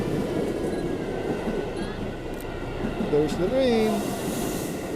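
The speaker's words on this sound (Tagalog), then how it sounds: "There's the train." A train rolls by on a city line in Kyoto, Japan: a steady, close rumble with brief wheel squeals near the end and voices faintly in the background.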